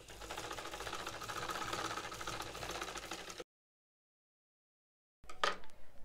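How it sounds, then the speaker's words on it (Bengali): Sewing machine stitching a neck patch onto a kameez, its fast rhythmic needle clatter running close and steady for a few seconds, then a pause and a brief burst of stitching again. "রেখে তারপর সেলাই করে দেবো।"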